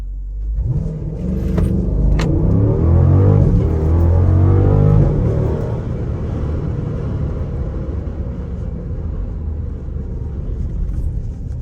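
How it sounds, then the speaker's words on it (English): Jeep SRT launching at full throttle with launch control, a deep loud engine roar building quickly to a heavy rumbling peak, then easing into a steady lower drone as the vehicle cruises on. "Launch control, I'm about to try. Let's do it. Full throttle."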